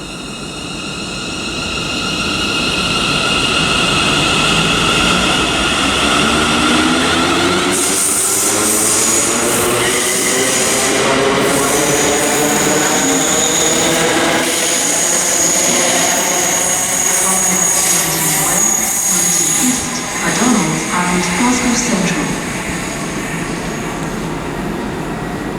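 A 4-car ScotRail train departing Paisley Gilmour Street on the 09:53 service from Ayr to Glasgow Central, a loud close roar of engines and wheels with rising and sliding whine tones, steady throughout.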